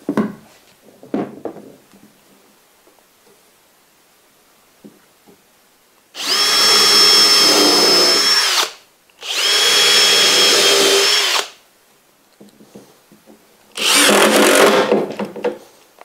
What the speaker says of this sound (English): But I am going to screw it down really good.